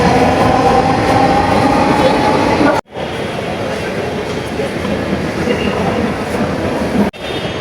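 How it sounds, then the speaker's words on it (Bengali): A metro train pulls into a station on a passenger's first ride, a loud sustained rumble of wheels and carriages with clattering rail noise, broken by two brief cutouts, and some voices faintly underneath. "এখন ট্রেন আসতেছে, ট্রেনে চড়বো।"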